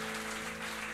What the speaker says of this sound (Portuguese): Dê uma salva de palmas ao Senhor, irmãos.